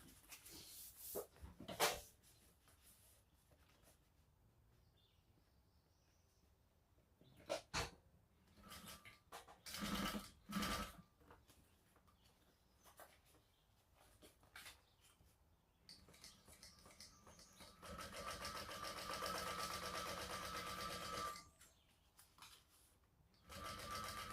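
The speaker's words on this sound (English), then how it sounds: "we will top stitch across this edge here" Home sewing machine top stitching across the edge of a crossbody bag, short bursts of whirring stitching separated by pauses and handling clicks, then a longer steady run near the end.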